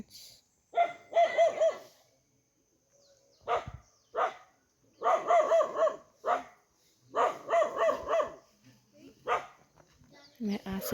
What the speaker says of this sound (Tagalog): May aso doon na tumatahol ng parang non-stop kasi nakita niya ako